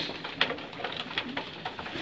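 Racing pigeons in a loft coo softly at feeding time, several low burbling calls repeating irregularly up close with faint rustling, no talk.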